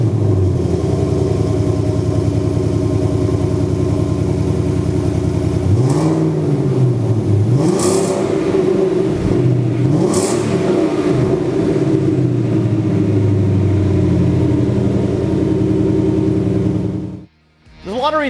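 A 2015-2023 Mustang fitted with an ACCELATEC X-pipe resonator idles with a deep exhaust rumble, then revs repeatedly in rising and falling sweeps before cutting out abruptly, loud and close.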